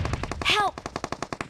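Rapid automatic gunfire in the mobile shooter BGMI, a fast even train of close, loud shots with a brief rising tonal sound partway through.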